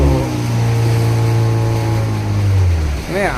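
A motorboat at Goa's Colva or Benaulim beach drones steadily and loud up close, its low engine hum shifting pitch toward the end amid wind and surf.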